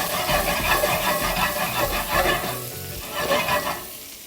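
Potatoes with grape tomatoes frying over medium heat in a pan, a loud continuous sizzle with stirring scrapes, close up and without talk.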